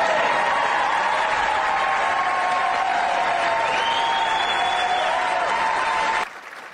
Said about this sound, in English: the large audience applauded